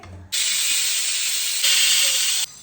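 A five-litre pressure cooker on a home stove lets out a loud, steady rush of hissing steam for about two seconds, then cuts off abruptly.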